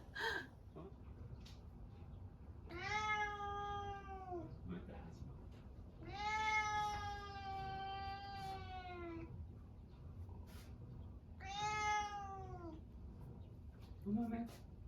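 A cat gives three drawn-out, complaining meows, each a wavering, nasal cry lasting a second or more, close and clear over a quiet indoor background, with a short chirp at the very end.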